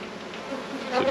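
Honey bees on a brood frame lifted from an open hive make a close, dense buzzing that swells slightly toward the end of the short moment.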